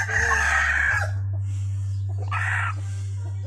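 Chickens cluck and squawk close by in two short bursts over a steady low electrical hum.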